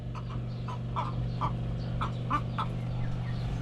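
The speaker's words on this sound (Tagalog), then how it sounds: "ito yung aking mga alagang manok eh" Pet laying hens in a backyard pen give a rhythmic series of short, soft clucks over a steady low background hum.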